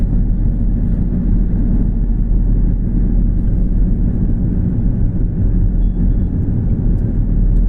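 Heavy highway traffic on a high-speed road in India, with a loud, continuous, close low rumble of trucks and heavy vehicles passing without pause and no voices.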